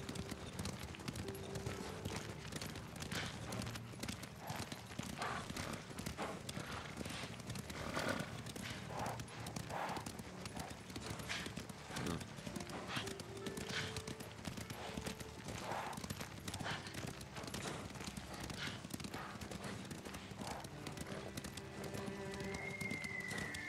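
Horses gallop in the video game Ghost of Tsushima, steady rapid hoofbeats thudding throughout at moderate volume, with an occasional whinny and faint voices mixed in.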